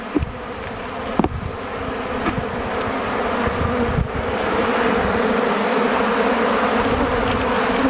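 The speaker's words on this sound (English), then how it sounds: "those bees are really, really active on the bottom of this one" Honey bees swarm and buzz around the bottom of a beehive on a hot day. A dense, steady hum fills the air close to the microphone, with a few louder bumps and the drone swelling slightly as it goes on.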